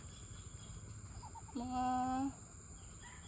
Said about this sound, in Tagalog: Ayan, pato.